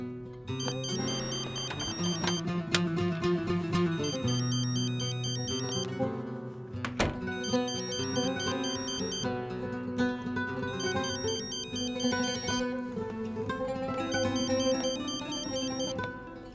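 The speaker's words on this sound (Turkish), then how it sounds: "Şimdi de cep telefonumdan arıyor. Bırak çalsın duymadım dersin." A mobile phone rings with a looping melodic ringtone, loud and close, repeating its tinkling pattern steadily for the whole stretch with no voices over it.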